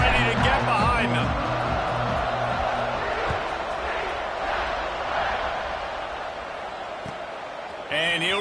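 Stadium crowd noise from a college football video game, UCF vs Delaware, a steady roar of many voices with a swell near the start and end, heard under continuous commentator talk.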